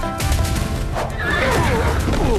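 Horse neighs loudly and close, a long shrill whinny with faint hoof clatter in a film scene, and voices faintly beneath.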